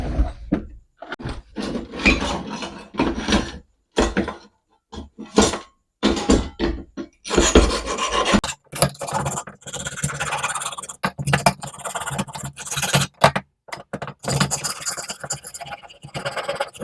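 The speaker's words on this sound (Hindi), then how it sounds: "तो मैं इसको थोड़ा सा रेगमाल से साफ कर लेता हूँ ताकि इसका पॉइंट अच्छी तरीके से साफ हो" Sandpaper rubs the rusty contact point of an electric iron under repair to clean it, making bursts of dry, gritty scraping, close and fairly loud, with short pauses between strokes.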